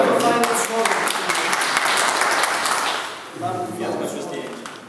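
Audience applause at a hippie culture days panel discussion, a broad wash of clapping that swells, dips around the third second, then picks up again with voices mixed in.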